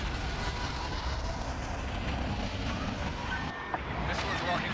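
A Y-wing bomber roars through a Star Wars Battlefront battle, a loud, continuous broadband engine rush that fills the whole stretch, with other game noise mixed in.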